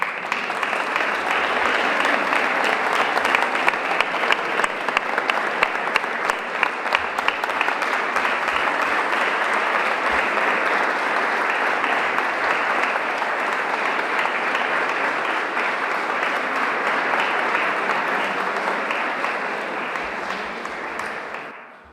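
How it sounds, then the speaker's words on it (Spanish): A concert audience in a church gives long, sustained applause before a string trio of violin, viola and cello performs, a dense steady clapping that holds for about twenty seconds and then tapers off at the end. "ya la recibimos con un gran aplauso"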